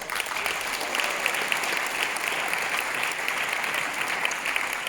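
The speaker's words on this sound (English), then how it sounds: "I want you to applaud that" An audience at a Black community event applauds steadily, a sustained wash of many hands clapping at even loudness throughout, with no break or voice on top.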